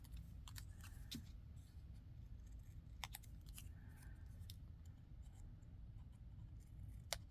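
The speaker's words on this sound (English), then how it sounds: "here we're just going to round the corners with our scissors" Faint, scattered snips and paper rustles from scissors rounding the corners of paper, irregular short cuts over a low background hum.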